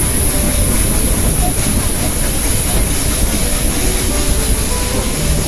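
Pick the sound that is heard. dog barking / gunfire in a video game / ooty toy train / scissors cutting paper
ooty toy train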